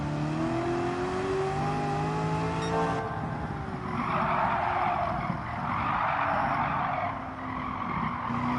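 A powerful car drifts in Gran Turismo 7, its engine droning with rising tones before tires break into a long, loud squeal over the last several seconds, alone without talk.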